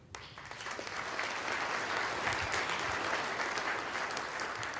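An audience at a humanist award event breaks into applause that swells quickly and holds as a steady, dense wash of clapping for several seconds, moderately distant and with no voices on top.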